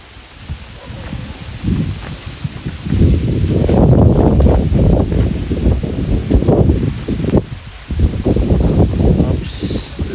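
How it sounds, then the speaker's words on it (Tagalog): Strong gusts of wind buffet the microphone on a hillside farm beside a ravine, roaring and rustling in surges with a light drizzle falling, loud and close with no talking. "Oops, lakas ng hangin. May kasamang ambon."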